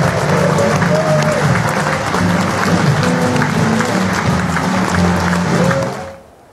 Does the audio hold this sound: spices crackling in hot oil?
no